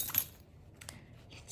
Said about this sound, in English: Pick your keys.